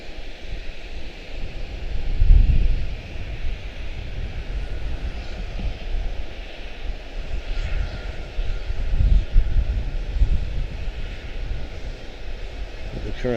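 A jet on arrival approach into Charlotte-Douglas International Airport roars steadily overhead, a broad loud engine rumble swelling and easing over several seconds, with wind buffeting the microphone.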